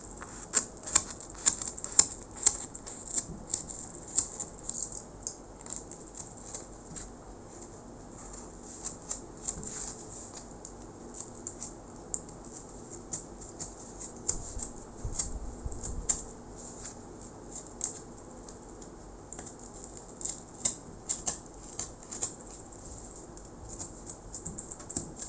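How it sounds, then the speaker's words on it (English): A pencil cutter slices an outline out of a cardboard sheet, giving a steady run of faint, dry clicks and scratchy ticks, close by and with no talking. "I have taken a pencil cutter here and I will cut my outline that I have made in the cardboard."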